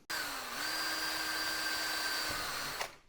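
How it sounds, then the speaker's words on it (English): A small power drill whirs steadily at a high pitch for a few seconds, then winds down abruptly, drilling a pilot hole for a Land Rover Defender L663 rear door release upgrade. "Let me center punch it and use a small drill first."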